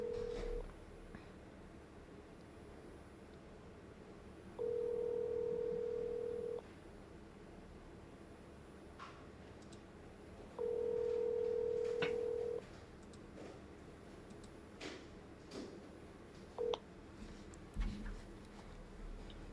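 Two steady electronic dial tones, each lasting about two seconds, alternate with quiet stretches over a faint room hum; a brief tonal blip follows near the end, consistent with phone calls being placed.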